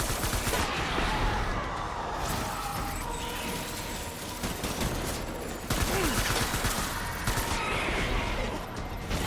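Sustained gunfire from a Death Stranding battle, dense overlapping shots forming a steady loud fusillade throughout, with brief vehicle-like rumble beneath and no clear talk.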